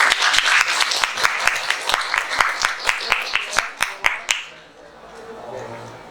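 Classroom applause at an open history class in a school, students clapping in a rhythmic, evenly spaced beat that is loud and close, then stopping abruptly, leaving quiet room noise and faint chatter.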